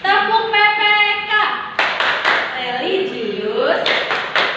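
A classroom of pupils does a rhythmic PPK clap, with sharp hand claps in short patterned bursts alternating with children chanting in unison and a teacher's voice.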